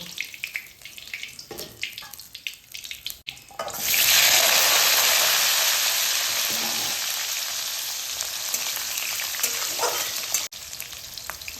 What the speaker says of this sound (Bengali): এবার এই তেলেই আমি আলুগুলোকে ভেজে নেব